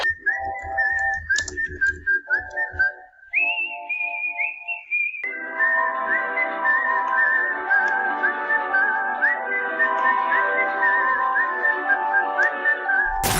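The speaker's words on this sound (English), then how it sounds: "her eerie whistle that she would play to scare people" Eerie whistled rendition of a tune, the calling card of a hacker character in a video game; a clear, solo melodic whistle that shifts pitch in phrases, then sustains a steady wavering line over a fuller backing.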